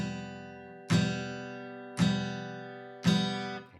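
An acoustic guitar strummed with three evenly spaced downstrokes, each chord ringing out and decaying before the next, close and clear with no talking.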